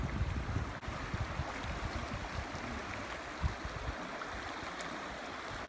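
Steady broadband rush of flowing river water on a mountain trail, continuous and close, with no voices.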